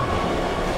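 Metro train rolling through the Heavy Rain video game, a loud, continuous, steady rumble of wheels and carriages with no voices over it.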